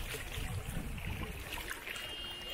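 Flooded Mahanadi river rushing under a bridge in Chhattisgarh, a steady broad roar of flowing water heard from above with low wind rumble and no talk.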